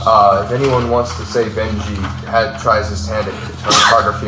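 A single sharp sneeze bursts out near the end of a lively conversation, brief and loud amid several people talking.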